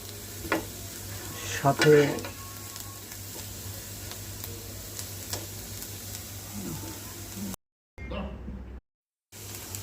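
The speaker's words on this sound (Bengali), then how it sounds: "আজ আমি খাবো আলু ভাজির সাথে গাজর দেওয়া। তো এটাকে আমি ভালোভাবে ভেজে নিচ্ছি" Potatoes and carrots fry in a pan with a continuous soft sizzle and scraping stirs, including a louder stirring burst early on, while a voice speaks briefly and the sound cuts out twice near the end.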